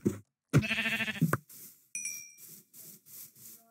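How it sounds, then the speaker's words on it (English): A Minecraft sheep bleats once loudly near the start, followed by a brief chime and a run of soft, evenly spaced game footstep sounds. "Wasn't there a sheep over here?"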